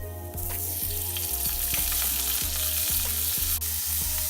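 Oil and butter sizzle loudly and steadily in a frying pan, a dense, continuous crackle with no voices.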